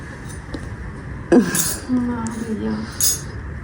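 Metal spoons clink and clatter on a tabletop during a home spoon-sorting challenge game, with a few sharp taps and a scrape among people talking nearby.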